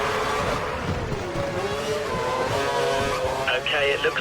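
A Formula 1 race car engine screaming at full revs around the Monaco street circuit in an F1 video game, a high steady whine shifting in pitch under continuous commentary.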